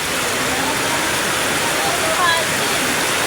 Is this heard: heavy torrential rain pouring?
yes